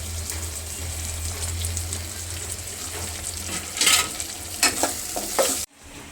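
Coriander leaves dropped into hot oil as a tempering for a mutton curry, crackling and sizzling steadily, then flaring into several sharp, louder hisses and stirring clatters before cutting off abruptly.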